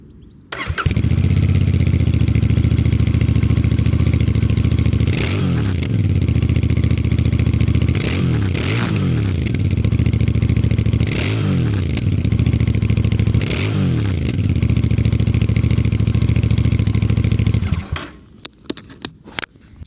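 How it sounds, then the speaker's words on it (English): Royal Enfield Bear 650 scrambler motorcycle standing still with its engine running, a steady loud idle broken by several sharp throttle blips and exhaust pops, close up, alone before cutting off near the end. "now I want to film you a sound of a bike while it is standing still"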